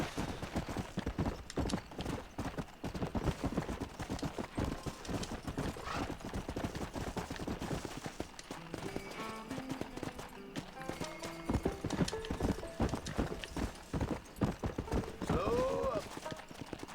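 A horse's hooves clip-clop steadily in Red Dead Redemption, a rapid, close rhythm of hoofbeats throughout, with brief musical or game tones and talking partway through.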